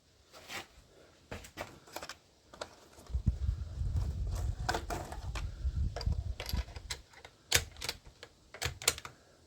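Sharp, light clicks from a rifle scope's adjustment turret on a 6.5x55 rifle come in scattered bursts and single ticks, close by, over a stretch of low rumbling background noise.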